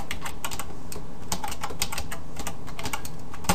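Rapid, dense clicking of a computer keyboard as HTML is typed into a code editor, close and steady under a constant background hiss, with no voices.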